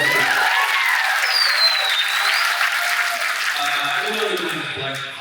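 Festival audience at the Windblume Festival 2024 gives a sustained round of applause, dense clapping with a few cheers throughout, fading slightly at the end.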